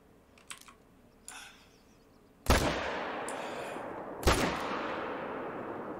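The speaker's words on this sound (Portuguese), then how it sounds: "tô atirando mal pra caramba" Two loud, sharp hunting-rifle gunshots ring out in theHunter: Call of the Wild, each with a long rolling echo. Faint clicks come before the shots.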